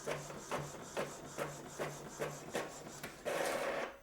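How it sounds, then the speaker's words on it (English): An Epson ET-4800 inkjet printer prints a page: close mechanical whirring marked by regular rhythmic clunks about twice a second, ending in a steadier motor whine. "you're gonna press print. Extend this tray. On top here, you're going to see the progress bar. It will simply tell you that it's actually printing."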